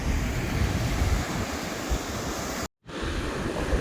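Waves of the Indian Ocean at Surfers Point wash in as a steady broadband roar mixed with wind buffeting the microphone, loud and continuous apart from a brief dropout.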